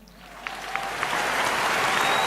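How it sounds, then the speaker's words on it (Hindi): An audience at a business seminar breaks into applause that builds from scattered claps to a loud, full, sustained ovation. "तालियां"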